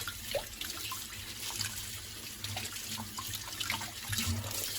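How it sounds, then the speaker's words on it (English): Pak choi leaves being swished and rinsed in a sink of salt water, with soft, quiet splashes and trickles rising and falling in irregular bursts, no talking. "You have to wash it in salt water."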